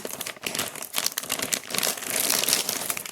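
A plastic parts bag from an Axial SCX10 II Trail Honcho RC rock crawler kit is cut open and handled, giving loud, close, continuous crinkling and rustling in uneven bursts, without speech.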